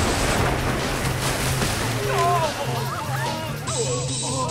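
A cartoon cold-water waterfall attack effect, fired during a robot transformation battle. A loud, steady rush of water roars throughout, with whooshing tonal sweeps added over the second half.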